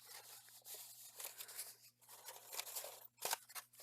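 An old crinkly paper junior high certificate from 1944 is handled up close, giving irregular rustling and crackling bursts with a sharp crunch near the end.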